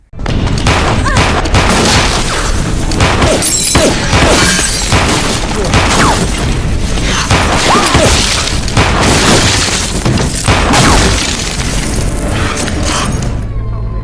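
A loud film gunfight roars continuously, with dense bursts of gunfire, heavy booms and shattering debris layered into a nearly unbroken wall of noise that cuts off abruptly at the end.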